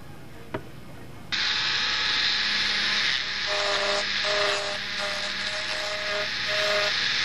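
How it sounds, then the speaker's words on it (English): Dremel rotary tool running at slow speed while shaping the wing tip of a Brodak Cardinal control-line model plane; a steady high whine starts after a brief click and holds, with slight pitch changes as it works. "I want to get the Dremel tool and run at a real slow speed"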